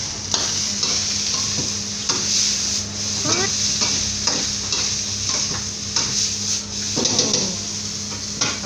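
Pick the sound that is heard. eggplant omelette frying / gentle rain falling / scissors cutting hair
eggplant omelette frying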